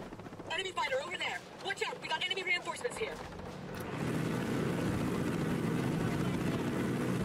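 A helicopter in the video game Ghost Recon Breakpoint drones with a steady rotor rumble that swells in and holds loud for the second half, after a stretch of people talking.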